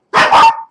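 A dog gives a single loud, close double-pulsed bark that trails off briefly, with no other sound around it.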